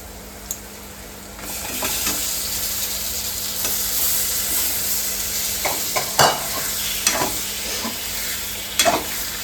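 Turmeric and masala sauté in a pan with a steady sizzling hiss, broken by several sharp scraping stirs of a utensil against the pan, close by and with no talking.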